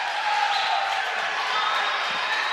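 Home crowd at a Swain high school basketball game against Rosman roaring and cheering after a slam dunk, a steady dense wall of voices filling the gym for the whole stretch.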